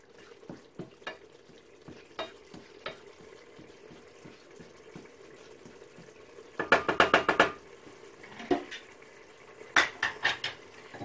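A spoon scraping and clinking against a pot of simmering chicken sauce, with soft bubbling beneath and quick bursts of rapid metallic stirring clatter, close and fairly quiet, no talking.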